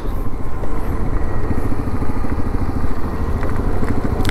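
A heavy motorcycle engine runs loud and close on Gorai Beach sand, a steady rumbling throb with rapid low pulses throughout and no talk over it.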